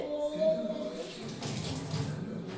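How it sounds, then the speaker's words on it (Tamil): Water runs and splashes lightly as hands are wetted while making idli in a home kitchen, a soft steady trickle of moderate loudness with faint background activity. "அடுத்து தண்ணியை கையில் லேசாக நினச்சிட்டு"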